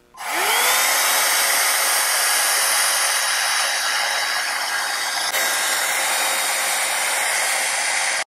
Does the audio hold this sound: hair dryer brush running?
yes